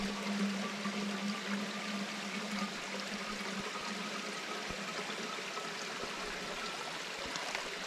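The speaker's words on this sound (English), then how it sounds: "And you just squeeze it in your bottle." Water pressed through a Sawyer Squeeze filter into a bottle beside a creek on the Butterfield Trail in Arkansas's Devil's Den State Park, a steady close trickle blended into continuous rushing creek water, with no voices.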